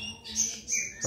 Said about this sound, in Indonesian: sebelah sini itu kicauan kita yang untuk pakai lomba teman-teman